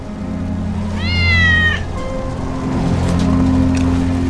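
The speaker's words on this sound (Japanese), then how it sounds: "ウェッジの猫だ。" A cat in the Final Fantasy 7 Remake video game gives one clear, rising-then-falling meow over a steady low hum of rain and ambient background, followed by a short faint tone and softer later chirps.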